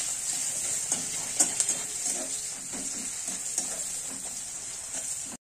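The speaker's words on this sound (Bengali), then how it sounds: "পেঁয়াজটা একটু লাল লাল ভাজা হলে আমি টমেটো কুচি রেখেছি, টমেটো কুচিটা দেব।" Onions browning in a pan for a poppy-seed katla fish curry give a steady, close sizzle, with scattered clicks of stirring running throughout.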